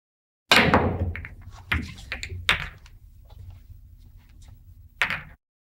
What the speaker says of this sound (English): This is called the machine gun shot, hitting the 1 ball, having the cue ball carry them off 2,